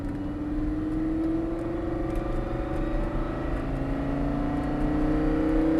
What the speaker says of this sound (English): let's start applying some accelerator now, Ben